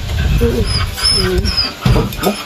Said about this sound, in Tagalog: Kanino naman sa naman ito galing na yung aso na to?